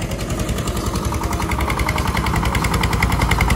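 A small tractor engine runs steadily on a farm where ground is being readied for planting winter vegetables such as radish, with a dense, continuous rumble and rapid pulsing throb held at an even loud level throughout.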